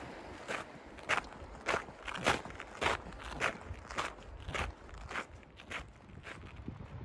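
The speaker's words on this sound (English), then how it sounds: "I climbed across a moraine field towards Ramsey Lake" Footsteps in hiking boots crossing a rocky moraine field in a remote New Zealand valley, about a dozen crunching steps in a steady walking rhythm, close and clear with no talk.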